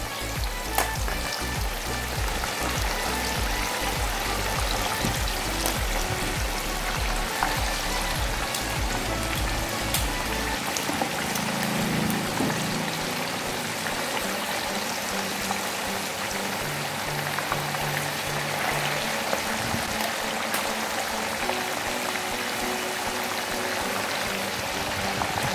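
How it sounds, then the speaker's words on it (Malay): Chicken pieces frying in hot oil, a dense steady sizzle and crackle that fills the whole stretch without pause, close and loud, with no talking over it. "kita goreng ayam hingga masak lah"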